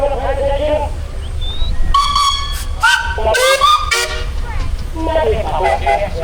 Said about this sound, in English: So all you do is just check if everybody's paying attention by blowing your whistle.